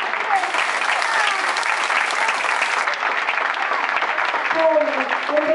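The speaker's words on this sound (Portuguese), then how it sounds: "Mais uma salva de palmas." Audience applause for a line dance group performing in Portugal, a dense, steady clapping from a sizable crowd that carries evenly throughout, loud and close, with a voice briefly heard over it near the end.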